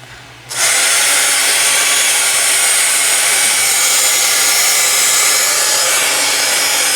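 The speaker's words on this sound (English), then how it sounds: "I'm keeping my heat gun rotating, moving." A heat gun blasts a steady, loud whooshing roar after starting abruptly, run continuously over clear liquid clay on an Easter cross with no talking.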